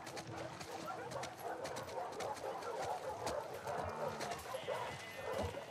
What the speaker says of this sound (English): These dogs are so annoying.